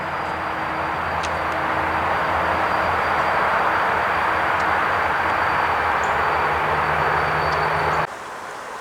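An NYS&W freight train shoves a couple of empty boxcars from a warehouse on the Utica branch, giving a steady, loud rumble and drone of rolling cars that holds for about eight seconds, then drops off abruptly.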